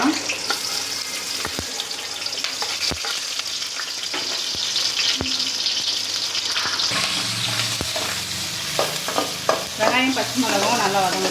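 Onion and green chilli frying in hot oil in a home kitchen, a steady close sizzle broken by sharp scrapes and clicks of a stirring spoon, with a brief rush of running tap water near the end.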